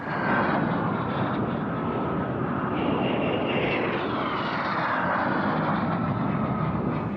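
A Czechoslovak-built L-39 jet trainer flies at a Russian Air Force centenary airshow, its engine a steady, loud roar that holds without a break, with a faint rising whine partway through.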